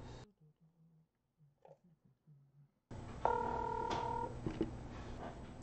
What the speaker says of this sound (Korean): 그러면 지금 한번 전화를 한번 해보도록 하겠습니다.